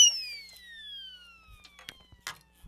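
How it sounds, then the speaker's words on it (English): An Acme siren sound-effect whistle winds down in a long falling wail, then a few faint clicks and handling knocks follow, close and without speech. "And my favorite, the Acme Siren."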